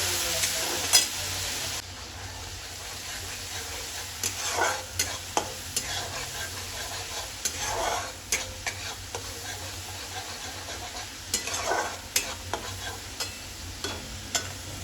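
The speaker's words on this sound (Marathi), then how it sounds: "हे बघा, आपले वाटण आता चांगले परतवून झालेले आहे." Ground masala paste fries in a pan for a white urad dal curry, with a steady sizzle and regular scraping stirs at close range, moderately loud, and no one speaking.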